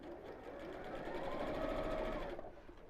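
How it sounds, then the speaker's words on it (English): A sewing machine runs steadily while stitching a boxed cushion cover, its fast, even whirring hum quiet and close, continuing for a few seconds without any voice over it. "sew straight across, so it makes a nice fold over the end"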